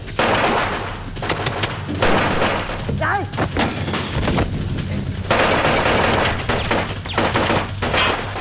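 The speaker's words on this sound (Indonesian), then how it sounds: "Ching menembak semua anak buah Sky, namun Sky berhasil kabur." Film gunfire during a shootout at a factory: rapid bursts of shots and loud bangs crowd the scene in clusters, with voices heard among the firing.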